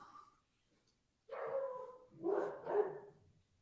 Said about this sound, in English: And your dog wants to be let in.